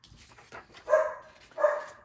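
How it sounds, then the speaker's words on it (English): A cockapoo lets out two sharp barks about half a second apart, fairly near and moderately loud in a quiet room. "Cockapoos are very barky."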